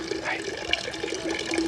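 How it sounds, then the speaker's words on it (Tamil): Water being drawn for cooking chicken curry, a continuous splashing, running flow with gurgling bursts, fairly close and steady under faint background voices. "நான் தண்ணி பிடிச்சிக்கிட்டு இருக்கேன்."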